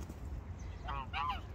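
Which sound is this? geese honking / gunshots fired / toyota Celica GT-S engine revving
geese honking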